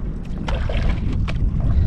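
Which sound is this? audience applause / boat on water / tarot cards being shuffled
boat on water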